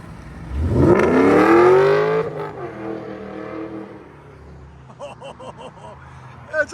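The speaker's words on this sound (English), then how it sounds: "That's a good sounding Mustang right there." A Ford Mustang engine at an exhaust event roars through one loud, climbing rev that then settles into a rumbling idle, followed by short crackling blips, with people talking nearby.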